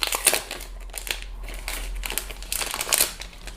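Plastic wrap crinkles and crackles as it is peeled off a Xiaomi 12S Ultra smartphone box, in short close bursts of rustling that come and go.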